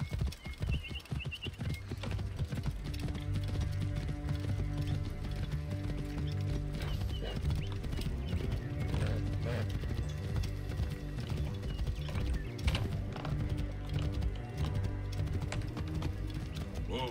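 Horse hooves clip-clop steadily in the Assassin's Creed Origins video game, rhythmic and continuous throughout, set under a dense layer of game music and ambience with an occasional whinny.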